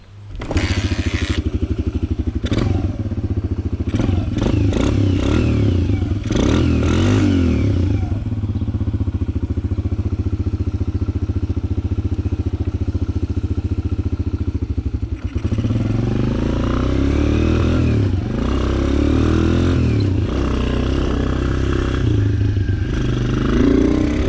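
A new dirt bike's engine runs loudly and steadily up close, with a few sharp revs and clattering knocks early on and a shifting, rougher engine tone later.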